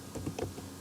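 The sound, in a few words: keyboard typing a URL into Internet Explorer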